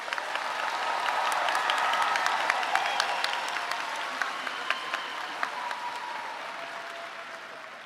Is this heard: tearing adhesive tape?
no